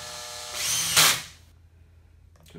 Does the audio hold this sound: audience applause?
no